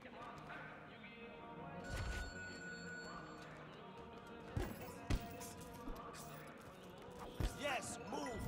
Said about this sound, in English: Okay, heavy bag and heavy punches.